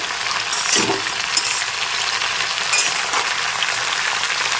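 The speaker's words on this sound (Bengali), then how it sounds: "স্বাদ মতো নুন ভালো করে নেড়ে চেড়ে একটু ভেজে নিতে হবে" Vegetables with salt and green chillies fry and sizzle in a pan while being stirred, a steady close hiss broken by a few scraping and clinking strokes, with no talking.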